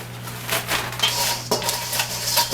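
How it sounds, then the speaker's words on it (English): A 1 cup scoop clinking and scraping against a container while scooping, with several quick metallic taps and rattles in close succession, close and fairly loud. "I'm going to take my handy dandy 1 cup scoop here"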